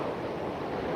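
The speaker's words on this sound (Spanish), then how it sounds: "Hay un poquito de oleaje, es cierto." Night surf washing onto the beach at Varadero, Cuba, heard as a steady, fairly faint broadband rush of waves mixed with wind noise on the microphone.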